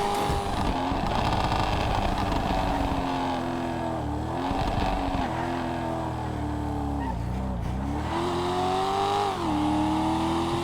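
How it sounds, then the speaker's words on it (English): Coquette BlackFin sports car engine in GTA Online, droning steadily with its pitch rising and falling through repeated revs and brief lifts off the throttle, loud and close throughout. "It's just the sound the car makes, and especially if you let go of the gas for just a little bit, you can hear those little car noises"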